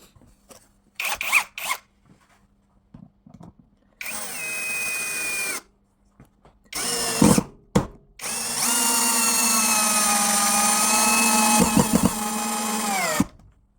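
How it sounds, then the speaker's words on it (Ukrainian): A ProCraft PA18Pro cordless screwdriver with a 4 Ah battery drives a 10 cm screw, with several short whirring bursts and then a long, strained run that slows as the screw seats; loud and close. "Подивіться, як він закрутив той саморіз."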